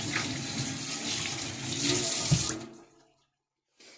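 Tap water runs and splashes into a pot as it is washed out, loud and close for about two and a half seconds, then cuts off into near silence.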